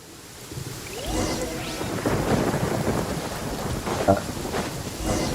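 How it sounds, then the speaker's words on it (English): A thunderstorm in the video game Genshin Impact: loud rolling thunder over steady heavy rain, with rumbling crashes building through the clip. "Lightning storm."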